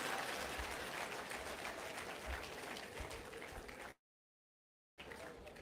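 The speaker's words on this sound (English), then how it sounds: "That's a clap you do. When I do that, you clap" Audience applause at a Jamaican diaspora forum: steady clapping from a crowd fills the room for about four seconds, cuts out abruptly, then resumes briefly.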